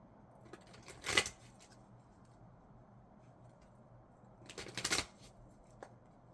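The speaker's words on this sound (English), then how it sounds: "let me get some cards from the Osho Zen Tarot." Osho Zen Tarot cards shuffled by hand, two brisk riffling bursts a few seconds apart, close and clear in a quiet room with no talking.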